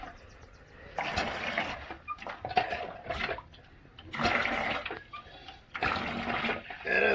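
A newly assembled water pump pushes water out in loud surging gushes that rise and fall in several bursts, with no voices.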